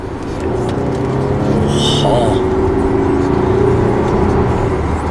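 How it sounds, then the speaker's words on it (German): A 3.0 TDI diesel car with software tuning accelerates hard on kickdown up a hill, a steady engine rumble and rising drone from inside the cabin, with a person's brief exclamation over it. "Einfach Kickdown und dann wird ihr eh sehen. So, auch berghoch, Kickdown."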